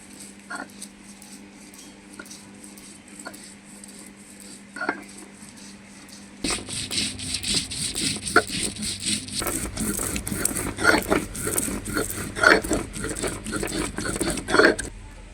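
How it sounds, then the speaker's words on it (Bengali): A stone pestle grinds coriander leaves on a shil-nora grinding stone, a close, steady scraping and rubbing with repeated gritty strokes that begins after several seconds of quieter handling noise. "অল্প অল্প করে ধনে পাতা শিলনোড়ায় দিচ্ছি আর বেটে নেব অল্প অল্প করে"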